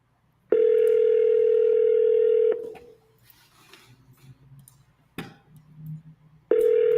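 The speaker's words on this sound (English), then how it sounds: "Can you hear the ringing?" A steady phone tone rings out twice, long and loud, during a cold call, with quieter line noise and a short click between the rings.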